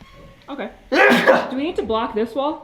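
One sharp sneeze bursts out close by, framed by people talking casually before and after it on a home building site.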